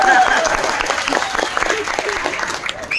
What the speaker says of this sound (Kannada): ಈಗ ಸರಿಯಾಗಿದ್ರೆ ಚಪ್ಪಾಳೆ ತಟ್ಟಿ ನೀವು.